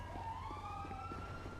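A police siren wails in the GTA NoPixel roleplay game, faint and distant, its rising and falling tone sounding over a low background hum.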